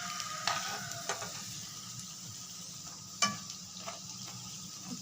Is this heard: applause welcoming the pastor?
no